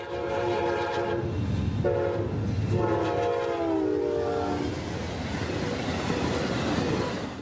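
A passing CSX southbound loaded coal freight train rumbles and clacks loudly as its horn blares in several long, layered blasts.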